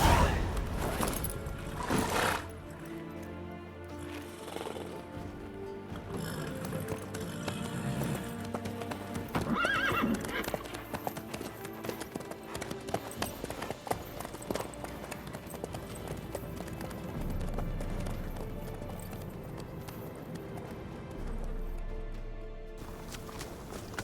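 Horse hooves clip-clop in The Witcher video game under a dense layer of music and ambient game sound, a steady rhythmic trotting that carries through the whole stretch without speech.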